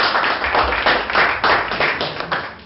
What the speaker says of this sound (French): Applaudissez-moi un peu pour voir.